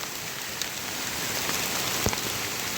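Rain falls steadily on surfaces at a flooded field where grass cutting was halted, a dense even patter with a few louder drops, near and continuous with no talk.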